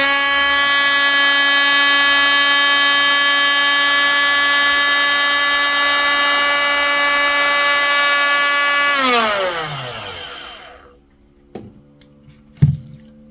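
A Parkside 12V cordless angle grinder, model PWSA 12 C2, runs at full speed with a loud steady high whine for about nine seconds, then winds down, its pitch sliding lower until it stops, followed by a couple of clunks.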